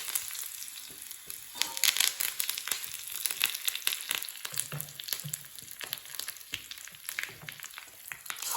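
Hot oil tempering of mustard seeds, urad dal, curry leaves and dried red chilies pours into raw jackfruit gassi, giving a steady crackling sizzle with sharp popping bursts throughout, close and fairly loud, with no voices.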